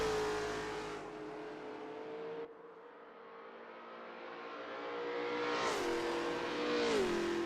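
A race car in the Assetto Corsa sim racing game accelerates out of a turn. The engine note is loud and steady, with a brief dip before it climbs again through rising revs and upshifts, and no voices are heard.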